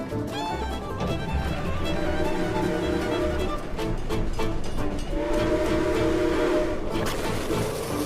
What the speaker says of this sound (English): The train's coming that way.